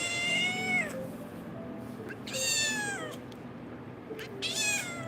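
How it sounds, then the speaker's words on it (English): A domestic cat meows three times, long drawn-out calls spaced a second or so apart, fairly close and clear over a quiet room. "We got a cat break."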